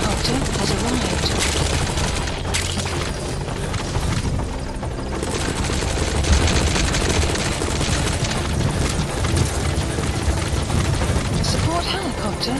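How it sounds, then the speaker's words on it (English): A support helicopter arrives in Metal Gear Solid V: The Phantom Pain, its loud rotor roar mixed with bursts of gunfire and a voice over the din throughout. "Support helicopter has arrived."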